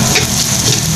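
Onions caramelizing in a frying pan before beef innards go in, giving a steady, close sizzle with broadband crackle and a low hum underneath, unbroken for the whole second with no voices.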